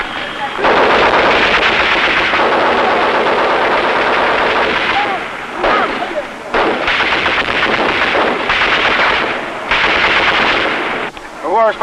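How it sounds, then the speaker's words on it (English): Sustained machine gun fire rattles loudly in dense automatic bursts with brief pauses between them, recorded in the field with U.S. Marines in Vietnam in 1965. "Whoever's firing this machine gun."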